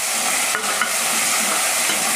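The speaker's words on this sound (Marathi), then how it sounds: "टोमॅटो पण 1 मिनिटभराचा परतून घ्यायचा।" Chopped tomato sautéing in a pan over softened onion, a steady loud sizzle and frying hiss throughout with a couple of brief stirring scrapes, no talk.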